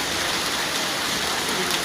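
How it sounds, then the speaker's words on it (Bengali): Heavy rain pouring steadily on a roadside, a dense, even hiss with no breaks, loud and close, no voices or other sounds standing out. "প্রচণ্ড বৃষ্টি, বৃষ্টি এখানে যে ম্যাট্রি এই বৃষ্টি কতক্ষণ থাকে সেটা বলতে পারি না"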